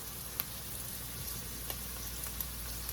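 Vegetables and minced garlic sizzle steadily over medium-high heat in a pan, a soft constant fry with occasional faint clicks and pops, no voices.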